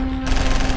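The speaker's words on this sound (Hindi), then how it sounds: "टेंट पर फायरिंग शुरू हो जाती है।" Rapid automatic gunfire rattles out in one loud, close burst of shots fired at a tent in a horror tale.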